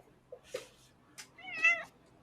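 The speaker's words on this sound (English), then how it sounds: "I heard a cat." A cat gives one short meow close by, with a couple of soft clicks and rustles before it in otherwise quiet surroundings.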